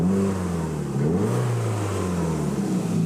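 A 1995 Toyota MR2 Turbo's engine runs close by, a steady mid-pitched hum that dips and then rises briefly as it is blipped before settling into an even idle.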